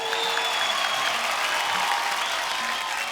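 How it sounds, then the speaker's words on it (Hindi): Studio audience applauding the cast of Hungama 2 on a TV talk show: steady, dense clapping that runs evenly through the whole stretch with no pauses. "एक बार जोरदार तालियां हंगामा 2 की सुपर टैलेंटेड कास्ट के लिए।"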